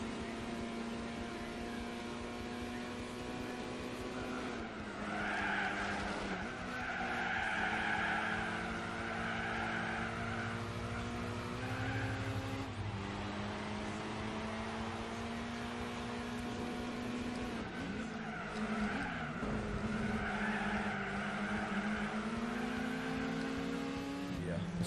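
Gran Turismo 4 VW Lupo Cup race cars snarl through corners in a steady engine drone, with tyre squeal and skidding rising and falling across the run.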